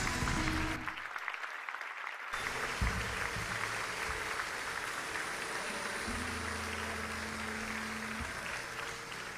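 A congregation at a church missions symposium in Brazil welcomes a preacher with sustained applause. Broad, even clapping fills the space, with a brief dip early on and a faint held tone joining partway through.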